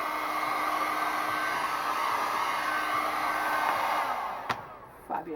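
Heat gun shrinking heat-shrink tubing onto an LED rope light power lead, a steady loud blowing roar that holds for several seconds, then cuts off, followed by a few small handling knocks.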